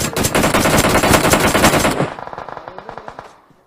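Loud, close automatic gunfire in the battle royale game PUBG Mobile, a rapid sustained stream of shots that thins into spaced rounds and fades out at the end.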